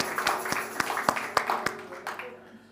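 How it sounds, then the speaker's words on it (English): A small gathering claps, crowd applause with distinct individual claps in a loose rhythm that thins out and fades toward the end, moderately loud indoors. "I'd like to give us a round of applause for everyone who's done everything today"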